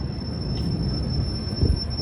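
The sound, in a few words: Minneapolis Blue Line light rail train passing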